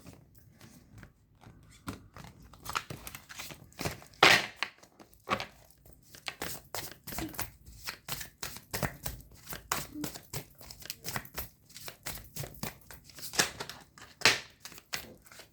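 Tarot cards are shuffled by hand in a series of quick, dry riffles and slaps, close and irregular with brief pauses between bursts, with no talking over it.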